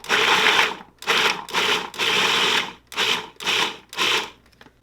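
A food processor pulsing a vegan mixture that includes canned ingredients, six or seven short whirring bursts separated by brief silences, close and loud, with no talk.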